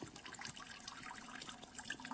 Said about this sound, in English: you can hear this water running